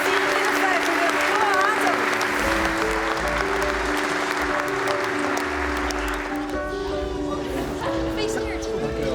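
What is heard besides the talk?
applause for Johan Cruijff Talent of the Year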